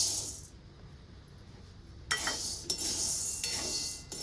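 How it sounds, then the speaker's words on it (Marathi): Sago pearls dry-roasting in a pan for a sweet sago dish, a spoon scraping and rattling the grains in a few bursts of stirring after a quieter start, close by. "तर आता सुरुवातीला शाबू आपण भाजून घेऊया."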